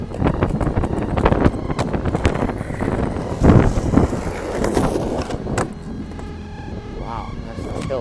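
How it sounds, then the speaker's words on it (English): Strong gusty wind buffets the microphone in loud rumbling blasts, with shouting voices breaking through now and then. "So freaking windy out here."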